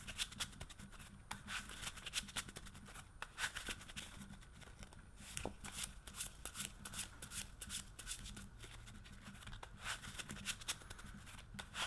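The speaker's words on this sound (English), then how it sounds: "we're gonna shuffle this again" Continuous riffling and flicking of playing cards being shuffled, close by, with a steady rapid texture and no voices.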